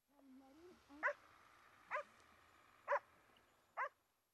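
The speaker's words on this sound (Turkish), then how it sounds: "Karlı zeminde yapılan arama kurtarma çalışmalarında arama kurtarma köpekleri Sıla ve Manas'ta yer aldı." Search and rescue dogs working on snowy ground during an exercise give four sharp, evenly spaced barks, preceded by a short rising whine, fairly close and clear against a quiet background.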